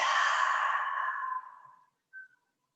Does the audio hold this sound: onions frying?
no